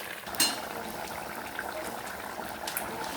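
Egg and potato curry simmers on the stove, a faint, steady bubbling and gentle liquid hiss with a brief clink near the start.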